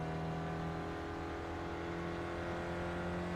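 In the iRacing sim at Okayama circuit, a race car engine holds a steady, buzzy drone with strong tonal harmonics under full throttle. It plays quietly and continuously with no talk.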